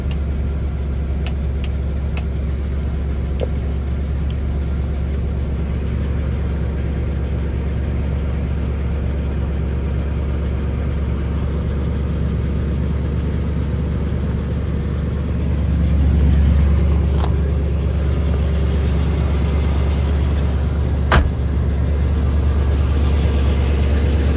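A 1970 Rallye 350 with a 350 V8, four-barrel carburetor and dual exhaust idles steadily with its choke partly on, a deep continuous rumble that swells slightly toward the end, with no talk over it.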